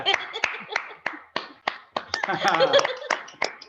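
Sparse, uneven hand claps from a small audience at a gathering where a harmonium is played, sharp separate slaps mixed with overlapping voices and a burst of talk in the middle.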